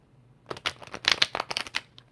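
Tarot cards get a ruffle shuffle, a quick burst of crisp riffling flutters and soft slaps lasting under two seconds, close and clear with no talking.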